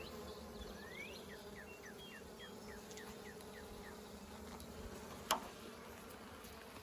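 Honey bees during a spring top bar hive inspection: a steady, soft, close buzzing hum throughout with one brief click near the end.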